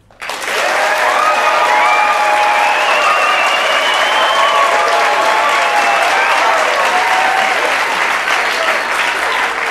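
A studio audience applauds steadily for almost ten seconds on a Canadian TV game show, dense, even clapping that starts abruptly and holds full and loud throughout, with no talk over it.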